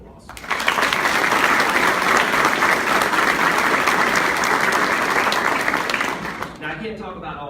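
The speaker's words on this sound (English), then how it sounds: "Please join me in giving them a round of applause." A crowd claps loudly and steadily for several seconds, a dense wash of applause that tapers off at the end.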